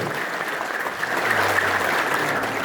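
A church congregation applauding together, a dense continuous wash of many hands clapping, loud and sustained throughout with no break.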